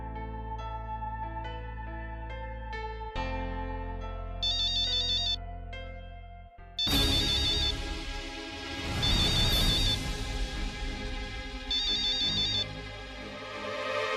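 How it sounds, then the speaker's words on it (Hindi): A melodic phone ringtone plays on its own, a looping electronic tune with chiming notes that grows fuller and louder partway through. "तेरा फोन बज रहा है।"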